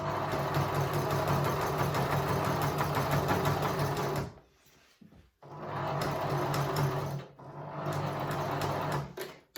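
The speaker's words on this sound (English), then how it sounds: "Now we're going to keep sewing all the way to the end" A sewing machine stitching a quilt runs in a fast, steady mechanical chatter, pausing briefly twice before resuming, close and clear with no talk.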